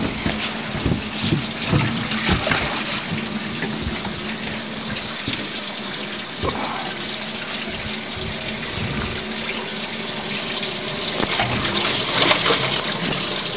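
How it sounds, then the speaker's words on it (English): Running water splashing and gushing steadily into a fish box on a boat during a side-drift fishing trip, a continuous close wash of water that swells louder near the end. "We got running water in it."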